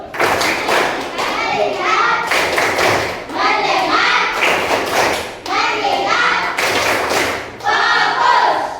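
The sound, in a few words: class doing the focus clap routine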